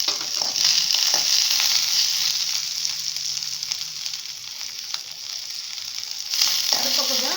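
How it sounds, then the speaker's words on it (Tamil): Chopped onion and green chilli sizzle steadily in hot oil with mustard seeds in a pan, a dense close frying hiss with occasional stirring scrapes and no talk. "இப்போ வந்து நறுக்கி வச்ச வெங்காயம் பச்சை மிளகாயை அதில் போட்டு லைட்டாக வதக்கிக்கலாம்"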